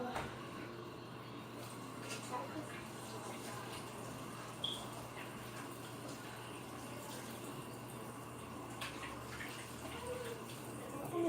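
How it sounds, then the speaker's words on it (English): Tap water running steadily in a home bathroom as slime is washed off hands, a continuous hiss with no speech over it. "I'm gonna go wash my hands because look at my hands."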